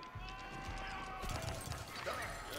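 Horse archers gallop in Age of Empires 4, a faint, busy clatter of hooves with a neigh amid battle noise, quiet and mixed with game sounds.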